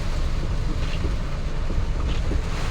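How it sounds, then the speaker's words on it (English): Strong typhoon wind roaring through a sugarcane field, a loud, constant rumbling rush with heavy buffeting at the microphone and no letup. "The wind is so strong."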